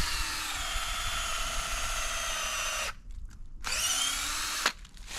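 A power drill boring bolt holes into a standing tree to pre-set it for saddle hunting, with a steady loud whine, a short pause, then another burst of drilling and a brief stop near the end.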